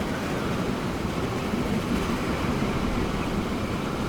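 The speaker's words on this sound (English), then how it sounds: "Fuel train coming in" A fuel train rolls into a station in the railway game Transport Fever 2, giving a steady, dense rumble of wheels and engine noise that holds even for the whole stretch without pauses.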